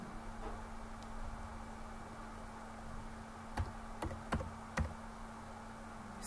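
Several sharp keystrokes tapped on a computer keyboard, spaced irregularly over a quiet background hum, close and fairly faint with no talking.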